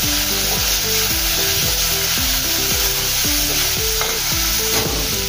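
Finely chopped tomatoes fry with softened onion and green chili in a pan for stuffed brinjal, giving a loud, steady sizzle with rhythmic stirring scrapes and no talk.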